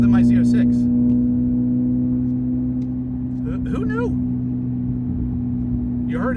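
A Corvette ZR1X drones steadily from inside the cabin while driving, its engine and exhaust holding a loud, continuous hum with a slight dip midway, and a voice speaks over it in brief bursts.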